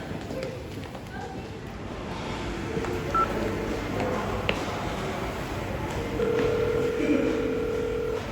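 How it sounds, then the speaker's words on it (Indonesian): A phone sounds a few telephone dialing tones, short and clear, over room noise, while people talk nearby. "tapi aku telepon orang tua dulu bentar ya"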